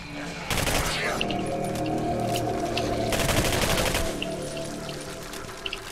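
Sci-fi shooter Singularity on hard difficulty, with a dense roar of weapon fire and crackling impacts, two sustained heavy bursts over a continuous noisy background, loud and close.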